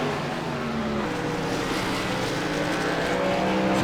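An Xfinity Series race car roars steadily around the Richmond track, its loud sustained engine drone filling the scene without pause and with no voices over it.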